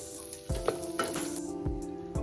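Cashews and raisins frying on low heat in a pan for a protein laddu, a soft steady sizzle with a few clinks and stirring scrapes, no talking.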